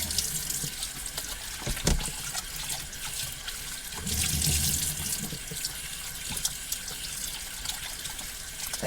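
Tap water runs steadily into a sink as potatoes are washed inside a motorhome, a constant close splashing hiss with a brief knock near two seconds and a fuller gush around four to five seconds.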